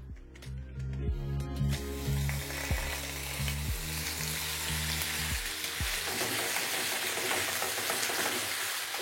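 Chicken dropped into hot mustard oil in a frying pan, bursting into a loud, dense, continuous sizzle close by over a few low clunks and stirring knocks.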